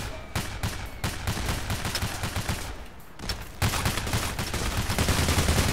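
Payday: The Heist firefight with rapid, dense bursts of automatic gunfire, loud and nearly continuous with a brief lull midway before the shooting intensifies again.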